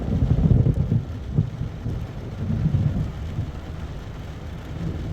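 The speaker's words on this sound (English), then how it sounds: "This is the worst thunderstorm." A thunderstorm outside a Walmart: deep thunder rumbles swell and fade over steady rainfall, loud and close.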